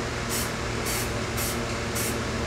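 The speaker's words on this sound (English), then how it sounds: "I sprayed all around the area" Blue paint sprays onto a small trail bike part in light coats, giving a loud continuous hiss with four regular pulses of stronger spraying as the can sweeps back and forth.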